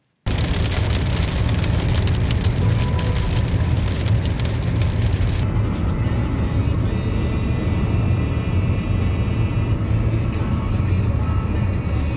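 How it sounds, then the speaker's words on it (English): Rain pelting a car driving on a highway toward Albuquerque, a steady broadband wash of drops and road roar that continues throughout, with the hiss easing somewhat partway through. "The closer we got to Albuquerque, the more pockets of rain we kept hitting."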